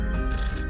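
A telephone rings in a brief, loud burst of continuous electronic bell tone.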